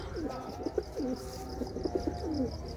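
Pigeons in a loft giving repeated soft, throaty coos in short rolling phrases, fairly close and alone against a low background hum.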